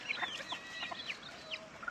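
A rooster clucks repeatedly nearby, short throaty calls in a quick irregular series over a quiet background.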